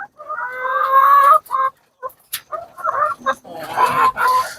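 Chickens in a mesh-walled coop cluck and chatter close by in bursts of varied, nasal calls with short pauses between them.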